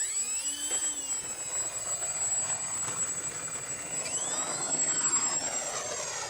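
An Avios C-130 RC model airplane makes a low pass with half flaps, its electric motors giving a steady whine that shifts pitch as it flies by, fairly loud and constant throughout.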